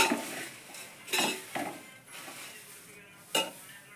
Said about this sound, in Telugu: క్రిస్పీ అయ్యేంత వరకు మనం మంచిగా వేయించుకోవాలండి